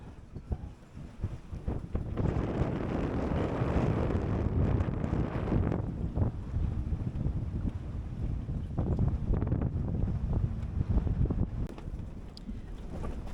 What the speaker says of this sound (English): oh, it's a bit windy